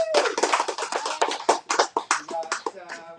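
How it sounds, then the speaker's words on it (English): Audience applause at a community event, a burst of clapping hands with individual claps audible, fairly close and steady for a few seconds. "Big round of applause for Danny"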